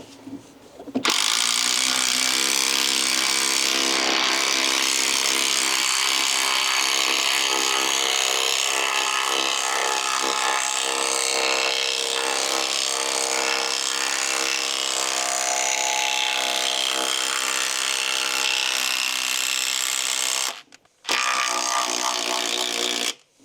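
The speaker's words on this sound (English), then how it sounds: "This one's jumping up to a 12mm screw" A Bosch 18V cordless driver sinks a 12mm concrete screw with a steady, loud whirring drone that runs continuously for about twenty seconds, stops briefly, then resumes for a short final burst.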